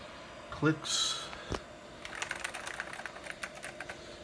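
Typing on a computer keyboard, a quick run of light clicks following a few louder knocks and a brief voice, fairly quiet and close.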